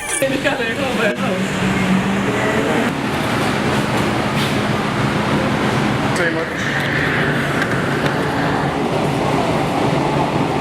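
Steady rumbling rattle of a moving train interior, continuous and loud throughout, with muffled voices mixed into the background.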